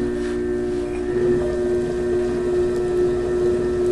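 A potter's wheel spins steadily as clay is centered for a tall cylinder, a loud continuous motor hum with a fixed tonal whine and faint wet rubbing, no talking.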